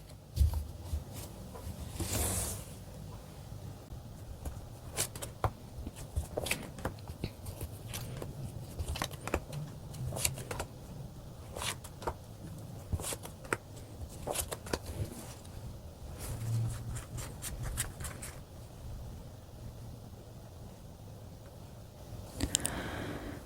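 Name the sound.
shuffling and drawing tarot cards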